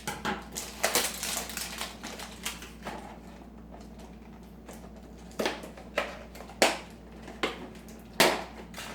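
Scissors snip at a kitchen table where raw vegetables and walnuts are being prepared, a series of sharp, irregular clicks and crunches up close, louder bursts toward the end, with no talking over them.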